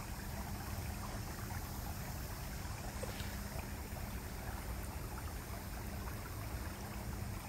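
Forest stream flowing, a faint, steady broadband wash of running water rippling along without pause, distant and quiet, with no voices.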